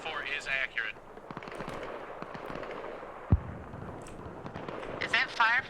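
Sharp gunshots crack intermittently in the distance beneath radio-style voices talking, with one louder close report standing out, in the video game Arma Reforger.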